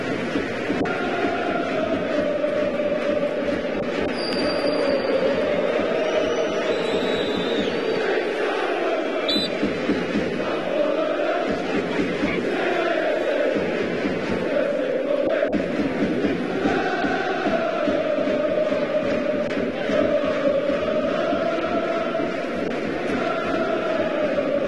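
Dense, continuous roar of a London football stadium crowd during a match, loud and sustained with swelling surges and chanting tones throughout, no clear gaps.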